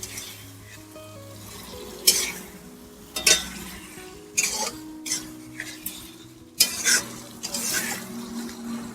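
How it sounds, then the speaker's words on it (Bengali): Ridge gourd sautéing with spices in a pan, a steady close sizzle with repeated scraping stirs and clinks of a metal spatula against the pan, no talking. "দেখুন মশলার সাথে ঝিঙেটাকে খুব ভালো করে কষিয়ে নিচ্ছি"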